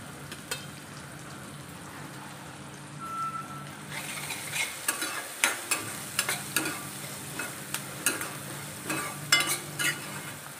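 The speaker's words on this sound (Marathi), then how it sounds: "आता मी कांदा टाकून घेते. चांगला परतून घेते कांदा." Chopped onion sautés in a hot pan with a steady sizzle while a spoon stirs and scrapes in repeated close knocks, the stirring growing busier partway through.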